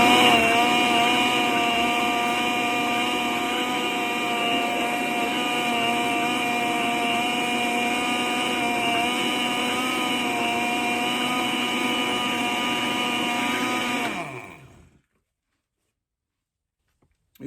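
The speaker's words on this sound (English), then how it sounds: "You want to make sure to blend your spices in the blender because you do not want any lumps in there." An electric blender whirs loudly and steadily as it blends spices for Caribbean peanut punch, then cuts off abruptly near the end, leaving silence.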